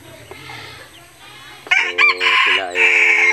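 Red junglefowl roosters and hens kept in a backyard pen. Quiet clucking comes first, then a loud, close rooster crows twice in quick succession, with its strained, wavering cock-a-doodle-doo calls ringing out clearly.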